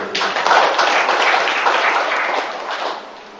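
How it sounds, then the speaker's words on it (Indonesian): Applause from an audience at a school principal's welcome address during a classroom management training, a dense steady clapping that swells early and tapers slightly toward the end, with no talk over it. "Tepuk tangan untuk SMT"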